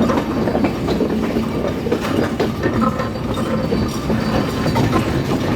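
Rupsha Express passenger train running on rails near Parbatipur railway junction in Bangladesh, a steady loud rumble with rhythmic clickety-clack of wheels over joints, continuous and close, no voices.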